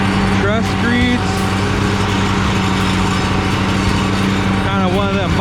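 A ride-on power trowel finishing a large concrete slab drones as a steady, loud engine hum throughout, with people talking over it intermittently.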